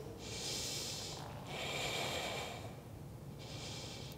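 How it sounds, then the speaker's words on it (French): Deep breathing during a yoga plank hold, three slow, close airy breaths through the nose, each a soft rushing exhale of about a second with brief pauses between. "3 respirations ici."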